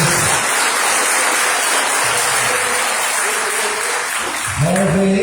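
A church congregation applauds a welcomed couple, a thick, continuous wash of clapping filling the hall. Near the end a voice begins speaking over it.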